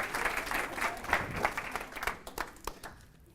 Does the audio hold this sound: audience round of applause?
yes